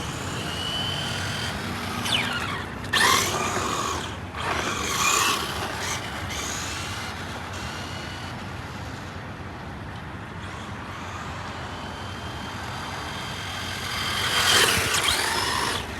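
A Traxxas GT4 Supra RC car drives and drifts, its electric motor whining and tyres scrabbling in a steady buzz with a few sharp revving bursts near the start and end.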